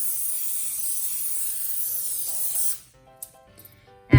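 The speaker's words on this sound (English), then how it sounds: "I'll spray some oil on" Cooking oil sprayed onto a baking tray lined with aluminium foil, a steady close hiss for under three seconds that cuts off, followed by a few light taps and a clatter.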